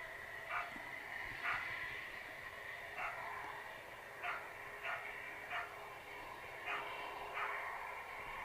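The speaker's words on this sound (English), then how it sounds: "Bit of an angry dog there." A dog barks in short, angry bursts at irregular intervals, faint and distant over a steady background hum near an airport.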